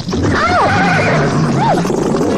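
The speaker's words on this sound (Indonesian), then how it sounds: "Kenapa kedua kaki belakang kuda yang dinaiki oleh Dewi Rara nyesek ke dalam tanah?" A ridden horse whinnies as its hind legs sink into soft, loose earth beside a rice field, with rising and falling neighs over a steady low background rumble.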